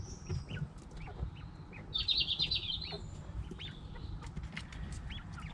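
Backyard chickens clucking and calling near the garden, with a louder burst of high bird chatter in the middle over a low steady rumble of background noise.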